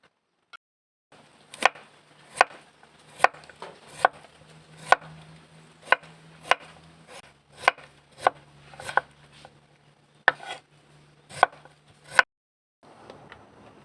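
A knife chopping boiled beef lung on a cutting board, about a dozen sharp, evenly spaced thuds close by against a quiet background, ending in a short pause and light rustling.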